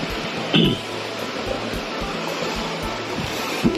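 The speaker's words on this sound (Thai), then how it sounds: "โอ้ฝนมาเยอะแล้วครับ" Heavy rain pours at Mo Paeng waterfall in Pai, Thailand, making a dense, continuous hiss and roar close by. A couple of brief knocks or splashes stand out over it.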